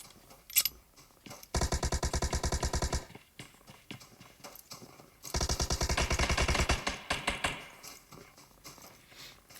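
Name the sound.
M16 rifle gunfire in the PUBG video game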